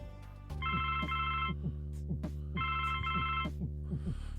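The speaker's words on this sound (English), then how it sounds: "the phone, cunningly enough, the phone's ringing" An old-style telephone bell rings in The Blackwell Legacy adventure game, two loud trilling bursts with a sustained electronic tone underneath, heard alone and close.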